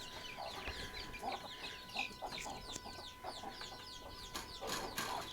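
Several chickens cluck and squawk continuously in their coop, a busy overlapping chorus of short calls at moderate volume with no talking.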